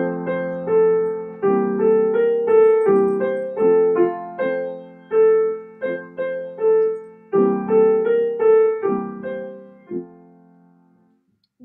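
The French folk lullaby Dodo l'enfant do plays as a gentle solo piano melody, close and clear, with a steady rocking rhythm of repeated phrases that fade out at the end.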